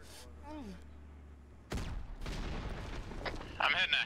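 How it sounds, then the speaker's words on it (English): Rockets fired at a house in a military shooter game hit with a sudden loud blast, followed by rumbling explosions and gunfire, close and heavy, with voices talking over it. "I'm hitting that house with rockets."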